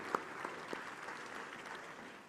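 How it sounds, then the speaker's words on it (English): Applause for an official party of heads of state at a formal annual meetings ceremony, a soft, distant patter of clapping with a few sharper claps near the start, steady and low in level throughout. "a round of applause for the official party"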